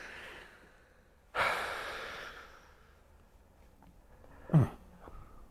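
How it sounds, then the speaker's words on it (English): Slow, deep relaxed breaths during a guided healing session: one long audible exhale near the start and a sharper breath or sigh later, close and fairly quiet with no talking. "Just keep that breathing."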